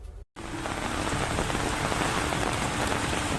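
Heavy rain pours down steadily in Uttarakhand, a dense, loud, continuous hiss and patter of drops hitting surfaces, briefly cut at the start before resuming unbroken, with no voices.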